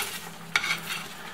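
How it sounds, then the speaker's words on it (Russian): Flour gravy faintly sizzles in a pan with a brief scrape of a utensil stirring partway through, quiet and close. "Зажаривается у нас."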